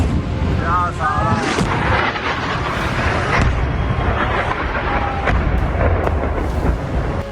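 A US-made Mark 84 bomb dropped by the Israeli Air Force on a Hezbollah site in Lebanon explodes in a loud, sustained rumbling roar with sharp cracks and debris, heard from a distance throughout.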